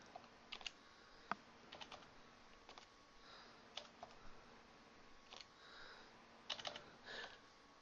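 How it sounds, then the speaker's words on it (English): Numbers are typed into an Excel 2010 spreadsheet on a computer keyboard, with the down cursor key used between entries: quiet, close, irregular key clicks in small bursts with short pauses, and no voice. "So I'm simply typing the numbers in and using the down cursor key to enter the numbers."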